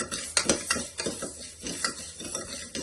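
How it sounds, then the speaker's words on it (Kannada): Horse gram dry roasting in a pressure cooker, irregular scraping stirs with small crackling pops over a soft sizzle, close and moderately loud, with no voice. "ಅದು ಒಂಥರ ಚಿಟ್ಟಪಟ ಅಂತ ಒಂದು ಸೌಂಡ್ ಬರುತ್ತೆ"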